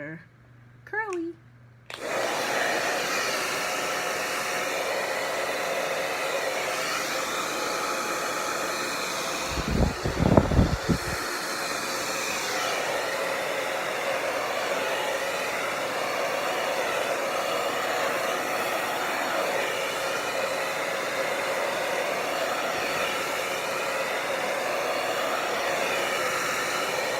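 Hair dryer blowing steadily on hair, a loud continuous whoosh running almost the whole time, with a brief burst of talk near the start and a short louder rumble partway through.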